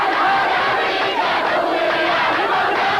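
A large crowd of protesters at a Gulf War rally chants and shouts together in a dense, steady roar, loud and close, with no break across the moment.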